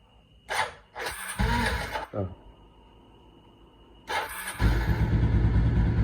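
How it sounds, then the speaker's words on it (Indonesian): A Suzuki Shooter FI small motorcycle engine starts and runs, with a couple of revs rising and falling, then settles into a steady, fairly close idle. "Ini suara mesinnya si Shooter nih."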